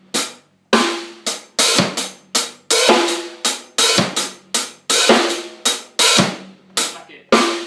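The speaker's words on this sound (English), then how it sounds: "it sounds quite nice if you just lift the hi-hat before every bass drum and every snare drum" Dubstep drum beat on a kit, with the hi-hat opened just before each bass drum and snare hit, sharp strokes in a half-time groove, close and loud with no talking.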